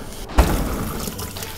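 Running tap water in a kitchen while a vegetable is washed under it, a short knock at the start and then a steady splashing stream close to the sink.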